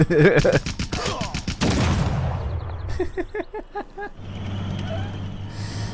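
Gunfire and explosive bursts from a Civilization 6 battle in which tanks fight chariots: a loud rapid volley of shots at the start, then a series of sharp clanking mechanical impacts and a low rumbling engine drone, with no talking.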